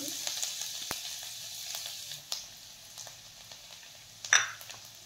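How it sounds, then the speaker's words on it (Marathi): Finely chopped garlic sizzles in hot oil in a kadhai as tempering for a cashew curry, a bright, crackling fry with several sharp stirring clicks and one louder spatter burst near the end. "आता आपण याच कढईमध्ये फोडणी करून घेऊयात। सर्वप्रथम टाकून घेऊयात बारीक चिरलेले लसूण"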